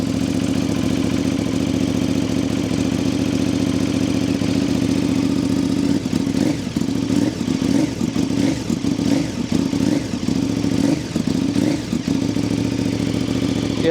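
A custom 2023 KTM Super Duke 1290 RR motorcycle engine idling close by in a cold garage, a steady low rumble with an uneven burbling stretch partway through, with no talking.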